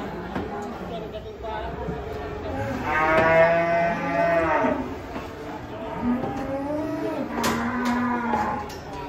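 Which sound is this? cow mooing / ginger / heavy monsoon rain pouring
cow mooing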